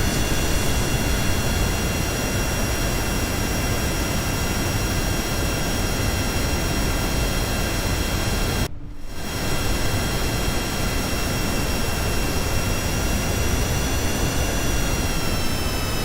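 Aircraft jet engine in Kerbal Space Program, a plane driving along the ground rather than flying: a steady, loud roar with high whining tones runs throughout, broken by a brief dropout near the middle.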